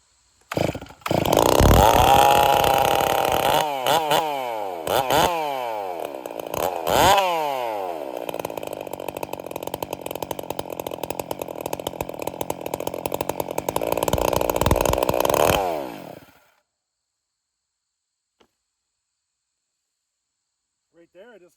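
A chainsaw running on nitromethane fuel with full choke starts with sharp pulls and bursts, then holds a loud, rough, buzzing run with revving sweeps for over ten seconds before cutting out abruptly into silence.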